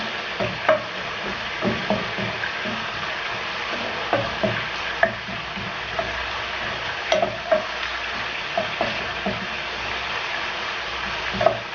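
Chopped onion and garlic fry in a pan with a steady, soft sizzle, broken by scattered clicks and scrapes as they are stirred.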